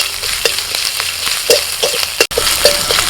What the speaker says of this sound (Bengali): এবার দিচ্ছি কারি পাতা থিত করা আদা আর কাঁচা লঙ্কা অল্প পরিমাণে দিয়ে দেব একটু হালকা করে নেড়ে নেব